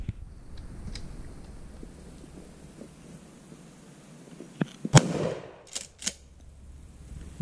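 A 12 gauge Maverick 88 shotgun fires at an outdoor gun range, with a couple of sharp, loud blasts near the middle and later shots following after quiet stretches of ambient range noise.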